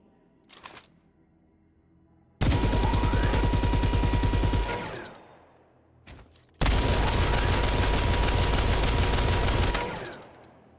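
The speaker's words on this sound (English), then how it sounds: "we have the Vulcan Heavy Machine Gun, based on the Quake 3 Team Arena Chain Gun" Vulcan heavy machine gun in Quake Champions, based on the Team Arena chain gun: a brief burst, then two long, loud, rapid-fire streams of shots that spin down at the end, with a short pause between them.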